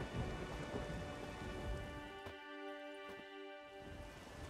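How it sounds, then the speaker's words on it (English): Steady rainfall in the video game The Witcher 3: Wild Hunt, a dense continuous patter of drops with low rumbling underneath, holding at an even level throughout with no voices. "There's no point standing here in the rain."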